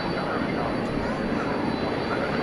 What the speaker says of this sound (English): My ears discern another UPS plane warming up